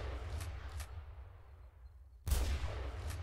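Shotgun fire from the M9K weapons addon in a shooter game: a single loud, sharp blast near the end, preceded by a couple of fainter distant shots over a low rumbling background.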